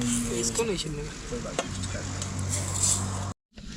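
Oil sizzling steadily in a pressure cooker at a campsite as tempered rice is started, a continuous close hiss with light stirring clatter throughout, briefly cut off near the end.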